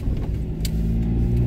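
A car pulls away slowly on a street in Japan, a steady low engine hum with mild revving close by, holding even loudness throughout, with no voices.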